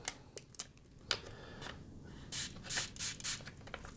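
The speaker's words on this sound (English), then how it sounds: "You're gonna wanna spray that also." A spray bottle spritzes several times nearby while a screen protector is applied to a Samsung Galaxy S8, short hissing bursts in an uneven rhythm, mixed with soft rubbing and handling noises.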